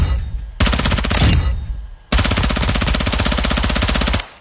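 Rapid automatic gunfire from a gun in Modern Warfare 2 on PS4, two loud sustained bursts, the second longer, with a short pause between them and no talking.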